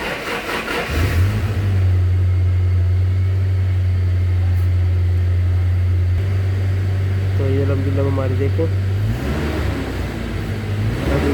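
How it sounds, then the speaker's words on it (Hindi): A 2011 Toyota Hilux engine idles steadily after starting, a low continuous hum with someone talking over it throughout. "गाड़ी हमारी अब अल्हम्दुलिल्लाह स्टार्ट है"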